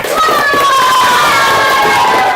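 A classroom of students applauding all the groups: a dense, steady wash of clapping and cheering voices from the crowd, loud and continuous throughout.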